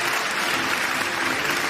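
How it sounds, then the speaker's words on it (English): Audience applause at a student debate tournament quarter final, a thick, continuous roar of clapping that fills the short moment at an even, moderate level. "the round of applause is deserved"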